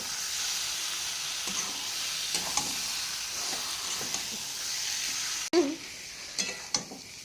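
Meat sautéing with chicken masala in a pan, a steady soft sizzle and hiss with occasional scrapes and stirring clatters, one sharp knock near the end.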